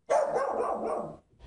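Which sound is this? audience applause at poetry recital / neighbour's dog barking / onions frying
neighbour's dog barking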